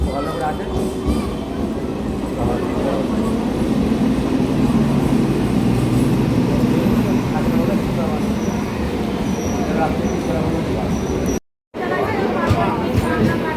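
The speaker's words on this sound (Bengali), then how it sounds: "ওইদিকে দু নম্বরে আর ট্রেন আসছে" A train pulls into platform two at a suburban Bengal station, its broad rumble and rail noise steady throughout and heard from nearby, with people's voices faintly mixed in and a brief dropout near the end.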